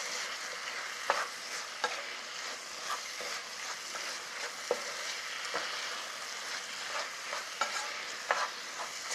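Yukgaejang ingredients stir-fry with soy sauce and tuna extract, a steady crackling sizzle punctuated by frequent scraping and tossing strokes of a utensil against the pan.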